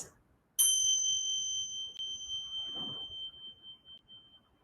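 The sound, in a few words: meditation bell ringing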